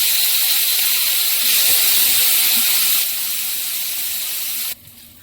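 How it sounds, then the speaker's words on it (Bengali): Potatoes frying in hot oil in a pan with bay leaf, cumin seeds and green chilli, a loud steady sizzle and hiss that eases partway through and drops off sharply near the end. "আলুগুলো একটু ভেজে নেব।"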